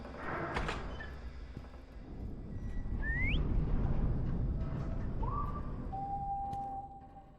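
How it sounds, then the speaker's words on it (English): A character whistles in the horror game Lazaret: a few thin, scattered notes, one sliding upward, then a longer held tone, faint and somewhat distant over a steady low rumble of ambience, with no speech. "Oh, he's whistling."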